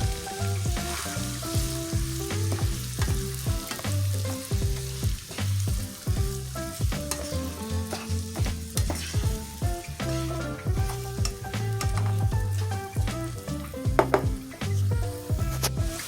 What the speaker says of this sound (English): we're going to add in our onion, and we're going to saute that for 2 minutes